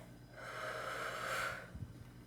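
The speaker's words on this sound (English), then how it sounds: "and out through your mouth." A deep breath is pushed slowly out through the mouth in one long, soft, airy exhale lasting over a second, ending in a few faint puffs, close up and quiet with no talk.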